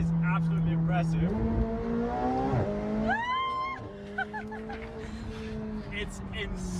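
McLaren 720S supercar on tight mountain roads, its engine droning steadily then rising in pitch as it accelerates, with a brief squeal of tires mid-drift; a voice talks over it.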